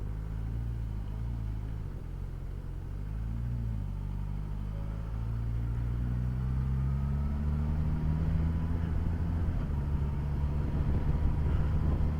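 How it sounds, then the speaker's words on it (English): Engine of a Suzuki GSX1000GT motorcycle on the move, a continuous low droning rumble that slowly rises in pitch as it accelerates, steady and fairly close with road noise and no talk. "I love the sound of this bike"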